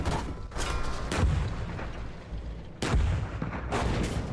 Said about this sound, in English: Someone just exploded right next to me.